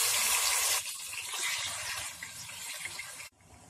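Marinated chicken drops into hot oil over a high flame, giving a loud, bright burst of sizzling that settles into a steady crackle and then cuts down sharply near the end.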